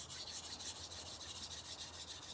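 An OTF knife blade is drawn across a 220 grit sharpening stone in quick, even rasping strokes, a soft rhythmic scraping up close with no talk.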